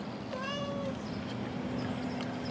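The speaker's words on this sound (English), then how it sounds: "It's a house cat." A house cat gives a single clear meow near the start. It is close and moderately loud over a low steady room hum, with quiet background after it.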